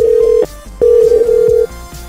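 A telephone ringback tone on an outgoing prank call: two long steady electronic rings with a short gap between them, clear and alone with no talking.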